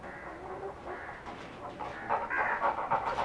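Aseel chickens and a rooster on a farm cluck and call softly at middle distance, with irregular bursts of clucking growing louder toward the end, no talk.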